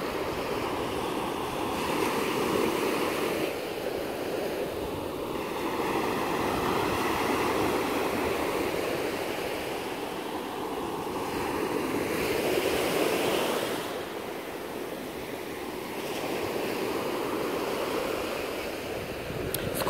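Sea waves washing onto a shore at night, a continuous rushing surf that swells and recedes in slow cycles every few seconds, fairly close and steady with no voices.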